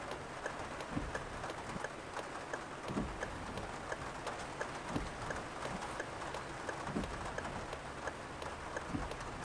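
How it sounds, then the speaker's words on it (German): Steady rain pattering on surfaces in the bus-driving game Bus Driving Sim 22 on a Munich route, a continuous soft hiss with scattered drop ticks, fairly quiet and without talk. "Was ich cool finde, sind die Geräusche vom Regen."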